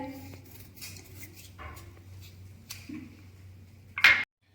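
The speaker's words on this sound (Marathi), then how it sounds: "त्या बटाट्याच्या चार पाच फोडी करूयात" Knife cutting peeled potatoes into four or five pieces: a few soft, sparse taps and scrapes on a board, then a sharper clatter just before the sound stops.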